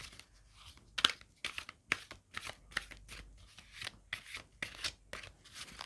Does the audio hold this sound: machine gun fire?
no